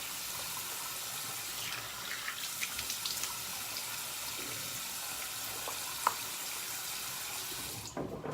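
Tap water runs steadily into a sink while shaving gear is rinsed, a continuous close hiss and splash with a few brief knocks and clinks.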